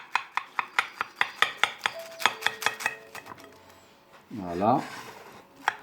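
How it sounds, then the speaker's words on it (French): A knife cutting a boiled egg, heard as a quick, steady run of crisp taps against a board, close and clear, before a voice speaks over the end. "On doit couper notre œuf par cette façon."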